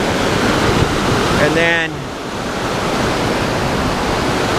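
Chambers Creek's waterfall roars as a steady, broadband rush of falling water close by, with someone speaking briefly over it.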